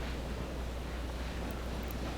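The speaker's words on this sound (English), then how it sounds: "Very windy." Steady wind blowing across an exposed clifftop path in the video game Dear Esther, a continuous even rush with no gusts or breaks, heard alone.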